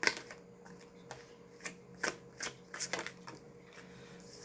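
Tarot cards shuffled by hand in a reading, a series of crisp riffling and snapping bursts at irregular intervals, close and fairly quiet with no talk.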